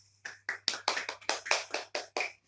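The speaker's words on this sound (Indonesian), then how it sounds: "Jadi tepuk tangan untuk kita semua." Classroom clapping during a lesson, a series of about ten sharp, evenly spaced claps in a steady rhythm, close and fairly clear over a low background hum.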